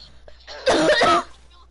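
A single short, harsh cough close to the microphone, a brief burst lasting about half a second amid quiet surroundings.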